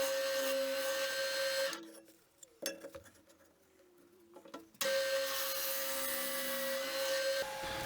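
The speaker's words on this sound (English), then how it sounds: "I started drilling the holes." A drill press boring holes in wood for threaded inserts on a shop-made table, heard as a steady motor whine that drops away as the bit cuts, with a few clunks in the middle before the loud whine returns.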